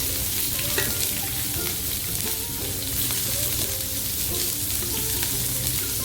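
Onion and green chillies sautéing with curry leaves in a pan for snake gourd poriyal, a loud steady sizzle broken by rhythmic scraping stirs, close up and without talk.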